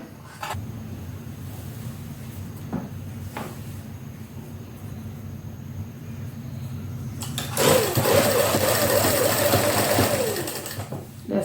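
Sewing machine stitching lace onto a sleeve, a steady close mechanical whir that runs throughout and speeds up into a louder, higher buzzing burst near the end.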